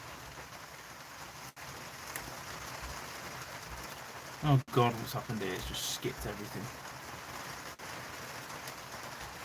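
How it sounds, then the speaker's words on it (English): Heavy rain pours down outside a van, a steady hiss of drops drumming on the roof throughout, with someone talking over it partway through. "Can you hear the rain? Absolutely pissing it down."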